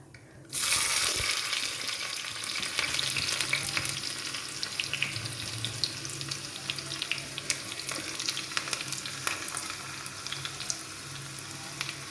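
Onions fry in oil in a small pan, a loud, steady crackling sizzle that starts abruptly and continues close up throughout, with occasional stirring scrapes.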